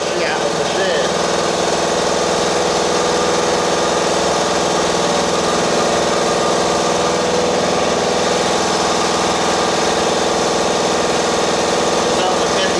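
The motor of a 30-gallon-tank air compressor hums loudly and continuously inside a shop, unbroken and steady throughout, with some talking faintly underneath.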